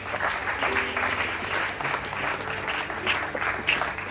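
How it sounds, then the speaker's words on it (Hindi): An audience applauds together, a dense, sustained clatter of many hands clapping that carries evenly throughout at moderate loudness. "तो ताली बजाते तो आज अच्छा लगता दोस्त"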